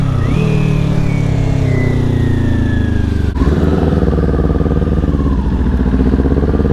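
A BMW S1000RR 1000cc motorcycle engine pulls hard and loud, its pitch sweeping with the revs, a brief shift break midway, then a rougher pulsing drone as it carries on accelerating.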